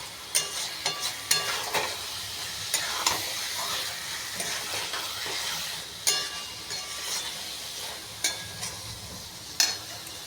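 Egg and washed animal fat are sautéed with curry masala in hot oil, giving a steady sizzle with repeated sharp scraping and clattering spatula strokes, heard close and without speech.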